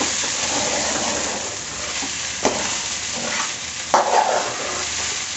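Okra fry with coconut powder being stirred in a pan, a dense continuous sizzle with a couple of spatula scrapes and knocks against the pan, close and unaccompanied by speech.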